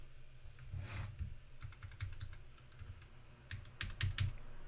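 A developer's computer keyboard typed in bursts of close, crisp key clicks, with short pauses between runs of keystrokes and no talking.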